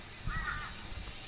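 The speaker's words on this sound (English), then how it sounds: "he heard a caw coming from the kitchen" A crow caws once in a house, a single harsh call standing out clearly over a faint steady background hum.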